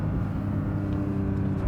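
A Porsche 992 GT3 engine roars steadily and loudly under hard acceleration, a dense continuous drone with no voices over it.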